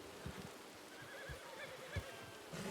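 A horse neighs a few times in the Red Dead Redemption video game, with soft hoof clops and rustling game ambience underneath, moderately quiet and without talk.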